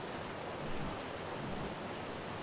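Steady water-wave ambience in ARK: Survival Evolved near ruins in a redwood or snow biome: a soft, continuous wash of surf with a gentle swell around the middle, with no talk.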